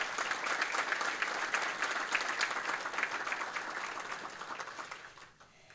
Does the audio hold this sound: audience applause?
yes